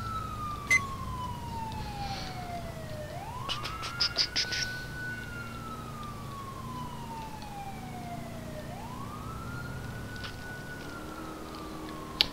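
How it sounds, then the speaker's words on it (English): A wailing ambulance siren in the video game GTA IV with the LCPD:FR police mod rises and falls in long, steady sweeps, with a few brief clicks and chirps over a low background hum. "It's an ambulance."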